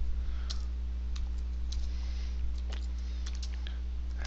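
Computer keyboard typing heard as sparse, irregular key clicks, close but light, over a constant low hum, with no one talking.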